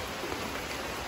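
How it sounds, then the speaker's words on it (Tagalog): Heavy rain pours in a dense, unbroken wash of noise, steady and close throughout, with no one talking. "Lakas ng ulan, no?"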